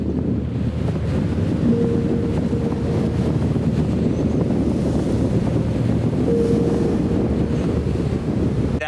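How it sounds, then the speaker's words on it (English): Strong wind gusts roar outdoors in the Arizona desert ahead of rain, a loud, steady buffeting rush against the microphone with low rumble throughout and no talk. "That was the gnarliest wind gust I've ever had."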